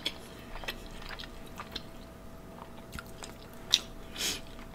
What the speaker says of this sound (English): It takes me 5 minutes just to chew my food.